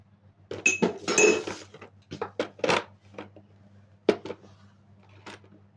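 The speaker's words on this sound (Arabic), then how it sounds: "وهنبتدي نقلب المكونات بتاعتنا" A spoon stirs pizza dough ingredients with oil and sugar in a bowl, giving irregular close clinks and scrapes against the bowl with a low hum underneath.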